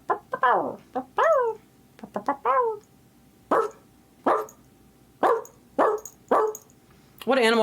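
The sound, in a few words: person imitating a dog barking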